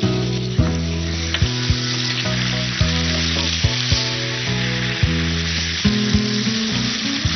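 Garlic and onion frying in hot oil for an Awadhi chicken dish, a loud continuous sizzle with regular utensil knocks and stirring strokes against the pan, steady and close.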